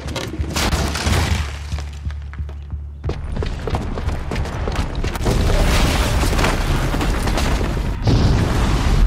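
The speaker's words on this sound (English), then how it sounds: "the booby trap on the bomb downstairs is gonna get set off" A bomb explosion in the video game Horizon Zero Dawn, a heavy booming blast followed by shattering, crumbling debris and rumbling that carries on loudly for several seconds.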